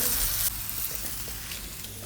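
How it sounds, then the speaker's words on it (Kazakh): Eggplant slices fry on their second side in a pan of hot oil, sizzling close up with a steady hiss that flares louder at the start and carries on with small crackles, no talking. "Одан соң баклажанымыздың екінші жағын қуырамыз."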